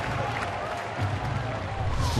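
Baseball stadium crowd murmuring and cheering in reaction to a strike call at a Milwaukee at Pittsburgh game, a steady wash of many voices that swells slightly near the end.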